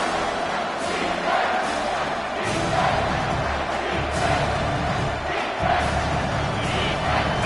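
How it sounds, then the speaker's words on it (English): A football stadium crowd roars steadily on a third-down defensive stand, a loud sustained wall of cheering and yelling that swells and stays dense throughout. "Decibels rising as the crowd gets behind this defense on 3rd down."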